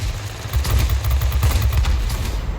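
Hurricane IID fighter plane firing its guns in World of Warplanes: a steady, loud stream of rapid machine-gun bursts with no voices.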